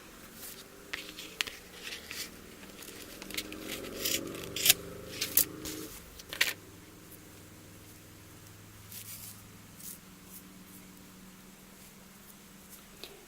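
Scissors snip through the bottom of a fabric Christmas ornament, a few close crisp cuts and scrapes clustered early, then quieter handling with faint rustles.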